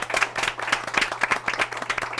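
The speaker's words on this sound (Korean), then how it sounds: "오늘 수고해 주신 세 분의 MC분들 박수 부탁드리겠습니다" Audience applause for three MCs at the close of a talk event, with dense, steady clapping from a room full of people lasting the whole moment.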